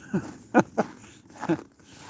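A dog gives four short, sharp barks, two close together and the others spaced apart, at moderate volume and fairly close.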